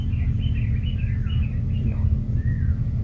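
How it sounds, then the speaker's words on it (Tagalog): Outdoors on an overgrown grassy path, a bird gives a series of wavering, warbling calls that rise and fall, followed by a short final whistle, all heard over a loud, steady low rumble of background noise. "Yan naman yung ibon mga tol."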